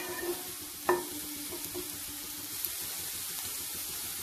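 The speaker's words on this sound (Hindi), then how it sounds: "कैबेज को 1 मिनट के लिए फ्राई करेंगे।" Chopped cabbage frying in a pan for a Chinese samosa filling, Mumbai street-food style, gives a soft, steady sizzle with one brief stirring clatter early on.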